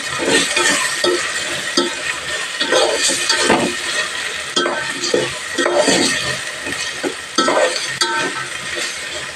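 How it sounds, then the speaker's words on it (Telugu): Tomatoes sizzle and fry in a pan for chicken biryani, steady crackling broken by repeated scraping stirs of a spoon against the metal, close and loud throughout. "టమాటాలు వేసుకున్నాం చూడండి ఇలా కొంచెం వేగనిద్దామండి"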